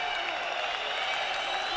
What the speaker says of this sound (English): the Azerbaijani crowd is really letting Medzhidov hear it